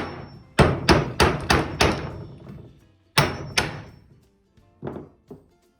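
A hammer strikes metal in a quick series of five sharp blows, tapping bolts through a barn door, pauses, then lands a few more ringing taps, close and loud.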